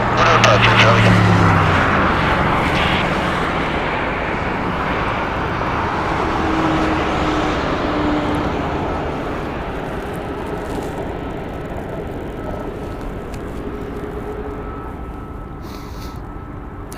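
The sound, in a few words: aircraft taking off at Las Vegas airport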